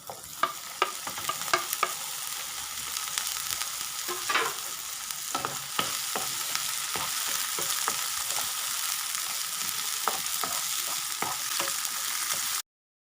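Chicken afritada with tomatoes sizzles steadily in a pan, with repeated scraping clicks and knocks from a utensil stirring it throughout; no voices.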